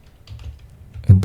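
Brief typing on a computer keyboard while working in SketchUp, a few soft taps followed by two sharper, louder keystrokes close up.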